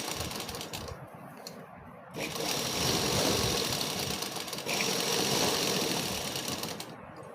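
Sewing machine stitching a second seam over buckram-pasted fabric, a steady continuous mechanical whirr that grows louder and denser partway through and runs alone without talk.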